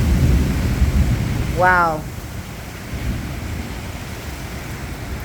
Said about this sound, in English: These are just some of the afternoon storms we get in the late afternoon, y'all, here in Florida.